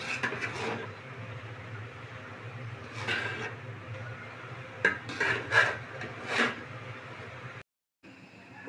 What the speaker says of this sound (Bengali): এখন আমি লাড়া দিয়ে দেবো